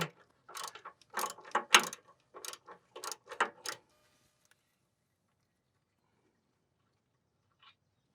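A ratchet works loose tight nylock nuts on the engine mount of a 2004-2008 Ford F150 with a 4.6L or 5.4L engine, in quick clicking bursts for about four seconds before falling silent, with one faint tick near the end.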